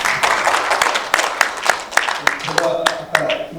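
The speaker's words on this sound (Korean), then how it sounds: "위원장님 박수 한번 더 크게 주세요." Scattered applause from an audience at a Korean policy forum event, individual claps standing out sharply over a thinner wash of clapping, with voices murmuring underneath.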